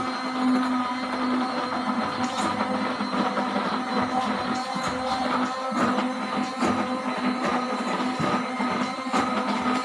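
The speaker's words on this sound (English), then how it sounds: "Here we will use the blender." Electric blender running steadily throughout while mixing ingredients for thick white phenyl disinfectant, a continuous close whirring motor drone with a slightly rattling texture and no talk.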